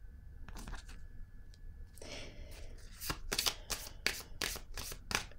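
Tarot cards being shuffled up close, a run of crisp riffling bursts that grow louder and more rapid toward the end, with no talking.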